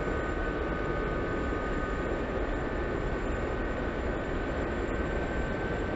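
Gazelle helicopter flying in the DCS combat simulator, a dense, steady rotor and turbine roar that holds constant throughout with a faint high whine on top.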